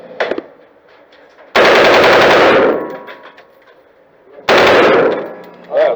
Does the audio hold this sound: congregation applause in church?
no